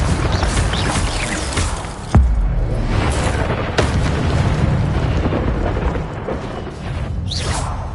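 The Incendio fire spell cast in Hogwarts Legacy, a loud fiery whoosh with a sharp burst and booming impacts over a dense background of combat effects.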